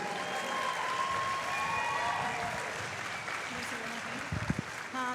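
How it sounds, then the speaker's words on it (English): Crowd applause for the players at a Brazilian jiu-jitsu pro event in Ireland, a steady wash of clapping held throughout with a few louder bumps near the end. "have a big round of applause for our players, everyone."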